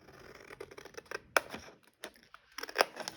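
Scissors snip through material for a Christmas craft box in quick, irregular crisp cuts, some sharp and close, with brief pauses between them and no voice.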